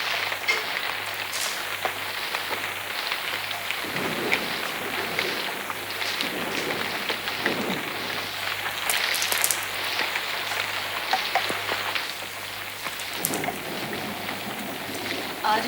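Heavy rain in a Hindi stage play, a steady, dense hiss of downpour running throughout with occasional sharper splashes and rumbles, fairly loud and continuous.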